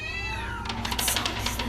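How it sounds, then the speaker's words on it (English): Two cats yowl loudly while mating outdoors at night in Bali, one drawn-out wavering caterwaul sliding downward, then rougher overlapping cries close by. "There were 2 cats that were mating"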